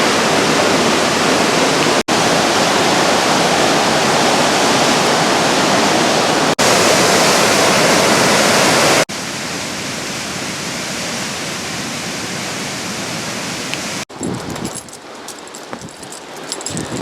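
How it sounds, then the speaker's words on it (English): Fast-moving floodwater from White Oak Run roars in a loud, steady broadband rush after a storm, with a few abrupt cuts and a thinner, quieter stretch of rushing near the end. "Definitely fast moving water here coming from White Oak Run."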